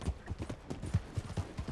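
Horse hooves clip-clopping in Red Dead Redemption 2, a quick uneven run of soft thuds close by, fairly quiet, with no talk over them.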